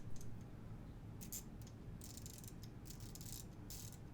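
A Milwaukee 1/4-inch drive ratchet clicks in quiet, irregular bursts of fine rapid ticking as its handle is swung back and forth, close and faint.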